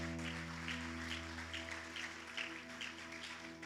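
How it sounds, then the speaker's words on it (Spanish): Church congregation at a Sunday service clapping in praise to the Lord, a soft, distant wash of applause over a steady low hum from the room's sound system. "den un aplauso al Señor"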